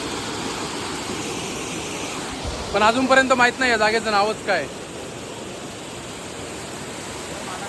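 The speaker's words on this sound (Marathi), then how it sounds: "मस्त पाण्याचा आवाज वगैरे येतोय खूप छान" Continuous rushing of a small waterfall beside a highway near Badlapur fills the background, steady and broadband, while a person talks briefly in the middle.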